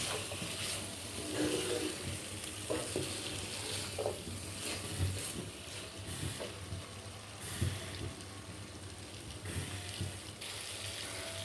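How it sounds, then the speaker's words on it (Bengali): Food sizzles and fries in a pan on a home stove while being stirred, a steady close hiss with occasional scraping and clinks, no talking. "সবাই এখন ঘুমাইতেছে, আর আমি এখন রান্না করতেছি।"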